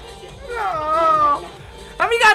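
A pet cat gives two meows indoors, a drawn-out first cry followed by a shorter, brighter second one, close and moderately loud.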